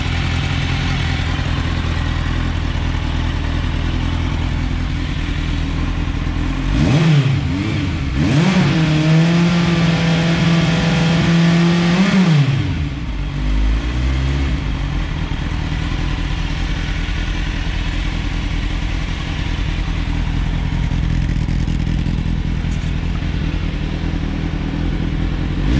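A 2003 Kawasaki Z750 motorcycle fitted with an IXIL dual under-seat exhaust idles with a steady rumble, then revs up sharply, holds high, and drops back to idle, loud and close.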